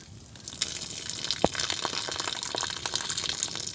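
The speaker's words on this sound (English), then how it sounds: "I'm gonna drain this hot dog water." Hot cooking water from boiled hot dogs is poured off outdoors at a snowy winter campsite, a close steady gush and splash of liquid lasting a few seconds.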